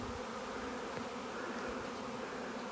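A swarm of honeybees flies into a swarm trap, a dense, continuous buzzing hum from many wings close by, steady throughout with no voices.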